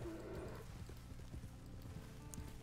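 Horse hooves clip-clop at a steady walking rhythm in the Red Dead Online video game, moderately close, under a low ambient rumble with no clear talk.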